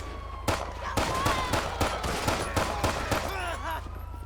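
Rapid bursts of gunfire in the GTA police-patrol mod LSPDFR, a dense run of loud shots over steady game background noise, with a voice talking around them.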